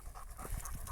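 A tired dog pants on a forest walk, a quick close rhythm of short breathy huffs that carry on steadily throughout and stand alone without any talk.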